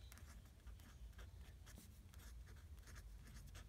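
A plastic-tipped pen writes in a Webster's Pages Traveler's Notebook, producing close, faint continuous scratching with small strokes and pauses, heard alone.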